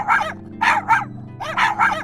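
A cartoon dog barks in two quick bursts of three sharp, loud yaps each, close and clear, with a short pause between the groups and no voices over them.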